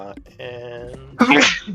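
A single sharp sneeze bursts out near the end, loud and close, following a brief stretch of a low voiced tone and a short spoken word.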